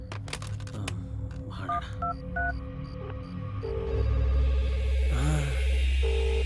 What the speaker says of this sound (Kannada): ರಿಂಗ್ ಆಗ್ತಿದೆ ರಿಂಗ್ ಆಗ್ತಿದೆ ತೆಗಿಯೋ ಫೋನು ತೆಗಿಯೋ